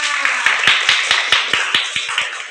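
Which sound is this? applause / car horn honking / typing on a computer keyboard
applause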